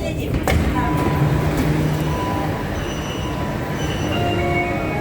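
Shenzhen Metro Line 9 train pulling out of a new station, a steady rumble of rolling wheels with thin squealing tones rising over it, and a person talking throughout.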